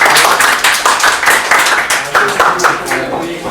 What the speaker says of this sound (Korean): 다시 한번 크게 박수